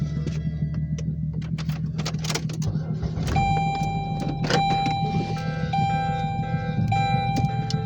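A car idles close by with a steady low engine hum, while several whirring power-window motor runs start and stop over it in short, repeated bursts.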